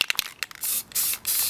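Grey primer sprayed from an aerosol can onto a wooden surface, heard as several short hissing bursts followed by three longer steady sprays, close and loud with nothing else over them.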